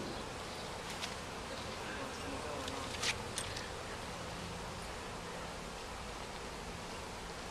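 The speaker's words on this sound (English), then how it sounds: "there's another bee dragging it in there to get rid of it" Honeybees buzz steadily around an open hive during a hive split, a dense, even drone that fills the whole stretch at a moderate distance, with faint rustling and no clear speech.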